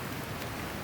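Rain falling steadily outdoors in a rainy area, a dense, even hiss of drops that fills the whole short moment at moderate loudness with no voices.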